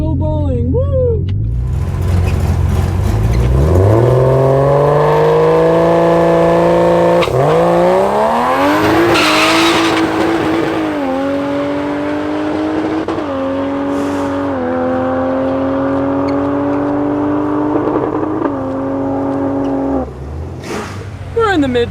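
A Barra-swapped Ford Mustang GT350 on a drag strip launches and pulls hard through several upshifts, the engine note climbing and dropping with each gear change, loud and close, with some talk mixed in.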